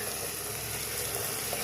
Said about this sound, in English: But running that much water for 5 minutes, it has not backed up to see me yet.